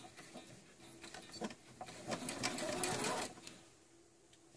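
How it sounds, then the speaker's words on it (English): Domestic sewing machine stitching the hem of a happi coat: a steady fast mechanical whirr of needle strokes, close and fairly quiet, starting and stopping in short runs with no talking. "So I'm going to just start sewing this bottom."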